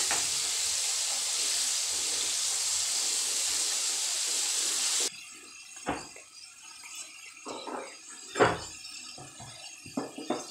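Flour-coated chicken fries in hot oil with a loud, steady hiss and sizzle for about five seconds. The sizzle then cuts to quieter kitchen clatter and scattered knocks.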